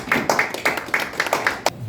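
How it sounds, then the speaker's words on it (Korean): Brief welcoming applause for a guest pastor at a church new-year gathering, light scattered clapping from a small audience with distinct individual claps. "나오실 때 우리 뜨거운 환영의 박수 부탁드리겠습니다"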